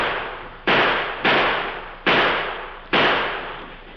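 Four sharp gunshot effects ring out in a radio drama, each a loud crack with a decaying tail, irregularly spaced over a few seconds with no talking.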